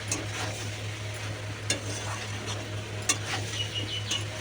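Potatoes sautéing in a pan, a steady low sizzle with scraping stir strokes and a few sharp utensil clicks against the metal, close and fairly quiet with no talk.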